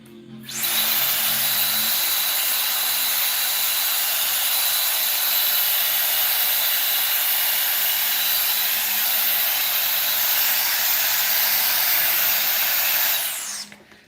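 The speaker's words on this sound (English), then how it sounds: "Blow dryer is going to be a little loud here." A hair dryer roars steadily at high power for the whole stretch, loud and close, switching on at the start and cutting off near the end.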